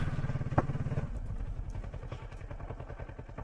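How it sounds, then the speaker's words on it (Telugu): A Kawasaki Versys motorcycle engine idles nearby in a mango orchard, a steady rhythmic low thrum with a brief knock early on, no talking. "ఇది మన బైక్ ఇది"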